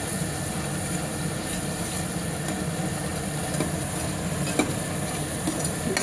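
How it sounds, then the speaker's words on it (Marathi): Masala with homemade black chilli powder frying in oil: a steady, dense sizzle with soft stirring throughout, close and fairly loud, with a few brief clicks near the end. "चांगलं परतून घेते तेल सुटेपर्यंत"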